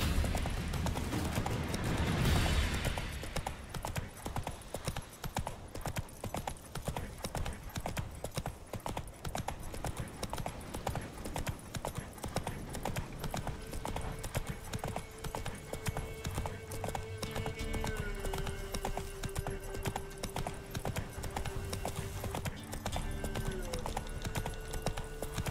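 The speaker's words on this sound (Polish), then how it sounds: "Niezły koń." A horse gallops with steady clip-clop hoofbeats in The Witcher 3 video game, a loud continuous rhythm lasting throughout, with game music and ambience underneath.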